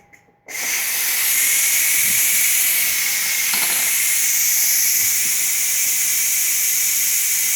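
A Ninja Foodi pressure cooker vents steam in a loud, steady hiss that bursts on after a brief quiet start and holds strong and unbroken to the end.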